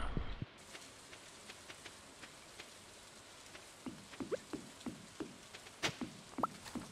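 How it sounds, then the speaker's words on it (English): Rain in the farming game Stardew Valley, a quiet pattering of scattered drops and light taps that grows busier in the second half, with no talking. "Ooh, it's raining."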